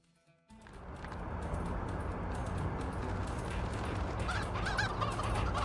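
Chickens in the Dead Trigger 2 mobile video game, a sudden onset of loud, dense clucking and squawking from many birds, continuous and crowded after a brief quiet start.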